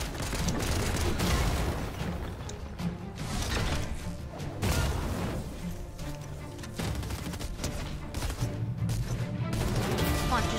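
Rapid bursts of gunfire from the Six Shooter and Infantry Rifle in Fortnite, sharp repeated shots with clattering game effects, continuous and dense throughout.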